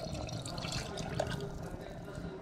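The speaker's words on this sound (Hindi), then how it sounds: "अब ये जो पानी है हम ये पानी डालेंगे इसमें" Water is poured into a cooking pot of rice for chicken pulav, a short, close splashing gurgle that rises briefly over quiet kitchen background.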